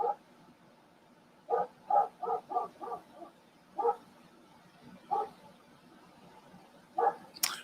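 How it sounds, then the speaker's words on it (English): A single dog barks at night, some distance off, in short spaced volleys: one bark, then a quick run of five, then scattered single barks, fairly faint with no talk over them. "Hold on, I gotta let this dog in before he wakes somebody up."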